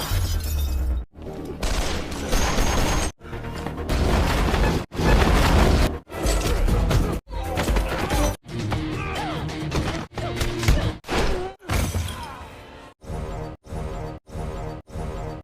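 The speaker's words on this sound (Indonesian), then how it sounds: "Adegan tembak-tembakan dan perkelahian pun terjadi." Gunfire and a brawl in the Bollywood action film Don 2 fill the scene with loud, dense bursts of blasts, crashes and impacts, separated by brief gaps of near silence.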